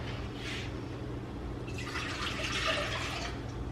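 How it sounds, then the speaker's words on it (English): Filtered water poured into a container for a homemade Starbucks-style drink, a close, steady liquid pour that grows fuller and brighter partway through, alone without talk over a low background hum. "it's to add 2 cups of water"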